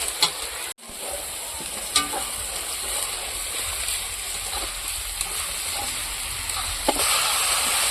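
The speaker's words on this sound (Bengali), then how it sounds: "মশলার সঙ্গে চালটা আমি ভালো করে মিশিয়ে নেব যাতে মশলাটা সব চালের সঙ্গে লেগে যায়" Drained rice for basanti pulao stirred into spices in a hot pan, giving a steady sizzle with a few sharp scrapes of the spoon, close and continuous, with no talk.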